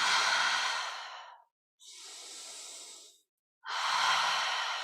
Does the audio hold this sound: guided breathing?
yes